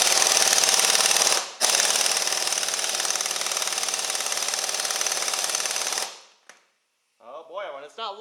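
An Urceri compact air impact wrench hammers away in rapid, continuous loud bursts in a workshop, breaking off briefly after a second and a half, then stopping near six seconds before a voice speaks.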